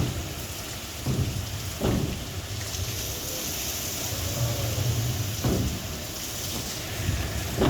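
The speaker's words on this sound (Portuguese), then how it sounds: "Chuva forte, vento forte também, a gente viu ali muitos raios na região de Jari." Heavy rain and a thunderstorm in the Jari region, a dense continuous downpour with gusts of wind and several low rumbling thunder bursts spaced a few seconds apart, with no talking.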